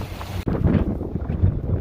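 Strong wind over a flooded field buffets the microphone in loud, continuous low rumbling gusts, with a sudden cut near the start and no voices.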